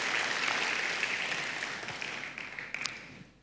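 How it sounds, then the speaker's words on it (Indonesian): An audience applauds at a church service, a dense, steady wash of clapping that fades gradually, with a few sharper individual claps near the end and no one talking. "Tepuk tangannya yang paling meriah buat Tuhan kita."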